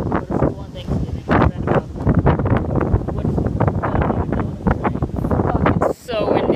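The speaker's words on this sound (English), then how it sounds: "it's so windy. It's terrible." Strong outdoor wind roars and buffets the microphone in loud, continuous gusts for the whole stretch, with a muffled voice partly buried beneath it.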